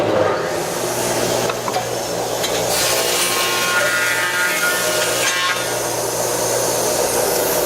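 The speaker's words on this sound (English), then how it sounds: "Let's plane it down to 13/16" A thickness planer feeding a wood board down to 13/16 inch: a steady, loud roar of cutterhead and motor with a constant low hum, continuous throughout without breaks.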